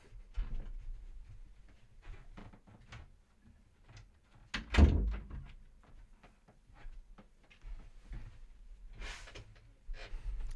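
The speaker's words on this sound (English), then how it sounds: "I'm just going to shut the door." A door being shut indoors, heard as a single thud with a brief rattle in the middle of otherwise quiet room noise, with faint scattered handling sounds and shuffles before and after.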